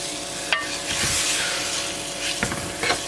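Meat browning in a hot pan for hunters stew, a continuous close sizzle with a few sharp scrapes and clicks of a utensil moving the pieces.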